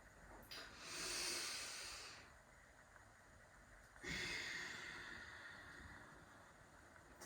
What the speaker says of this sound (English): Just breathing quite deeply here